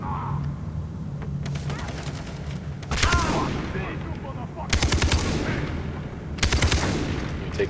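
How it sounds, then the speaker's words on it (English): AK-47 fire in the Far Cry 3 game, several loud rapid automatic bursts a couple of seconds apart, sharp and close, over a low background rumble with someone talking in between. "swapped up for the AK-47 because my PKM is running out of ammo"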